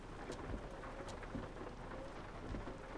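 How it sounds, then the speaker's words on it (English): Steady rain and low thunder rumble in the truck driving game American Truck Simulator, a constant wash of rainfall with faint rolling thunder underneath, heard at low volume. "Still got the rain, though."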